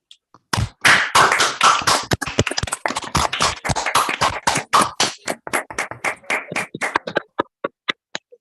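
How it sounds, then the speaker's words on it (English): Applause for a professor in an online physics bootcamp session, many unmuted participants clapping in uneven, overlapping bursts that gradually thin to a few isolated claps. "darle un aplauso al profesor De Vincenzo a la cuenta de 3"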